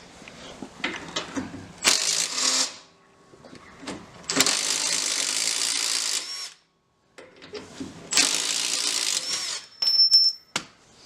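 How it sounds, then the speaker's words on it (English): A ratchet wrench breaking loose a bolt on Miata suspension during a coilover install, bursts of rapid clicking ratcheting separated by pauses and a brief silence, close and fairly loud. "Got my easy ratchet, break it loose."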